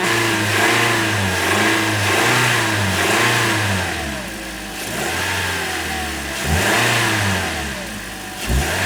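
A 2009 Toyota Corolla engine with low compression, still smoking, idling roughly and revving up repeatedly, loud and close, with the revs rising and falling in waves.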